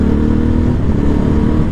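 A motorcycle on its stock exhaust runs steadily at road speed, around 85 km/h, producing a loud, close engine drone with a low throbbing rumble under wind noise and no voices.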